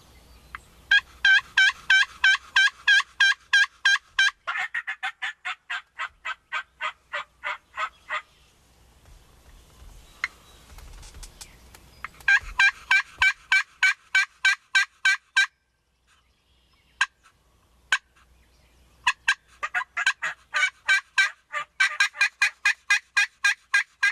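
Wild turkeys gobble in repeated rapid bursts, several loud, close rattling calls in series separated by short pauses, with no talking.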